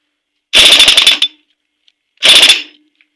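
A pneumatic impact gun rattles in two short, loud bursts while working on a Honda Shine motorcycle engine in a mechanic's shop, the first burst longer, then a pause and a second burst, with near silence between.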